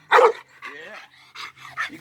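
A hyper dog at a hot rod yard gives a few loud, close barks and yelps in quick bursts, with no talking over them.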